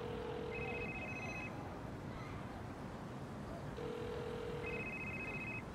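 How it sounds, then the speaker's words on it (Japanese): A telephone rings twice in short electronic two-tone bursts separated by a pause, heard over a muffled background bed with no speech. "最後に残った連絡先に電話をかけると、隣の男の電話が鳴ります。"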